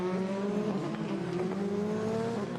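Formula 3 race cars at Hockenheim during a 2015 European Championship race: high engine whine with rising pitch as cars pass, several overlapping engines, loud and sustained.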